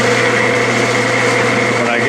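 A Clausing lathe takes an initial thread-cutting pass at 18 threads per inch with a pre-ground tool, giving a steady, loud motor whine with a constant hum and faint cutting noise throughout.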